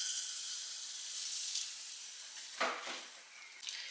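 Brown rice sizzling in coconut oil in a saucepan over medium-high heat, a steady hiss of frying with a brief stir and clink of a utensil partway through.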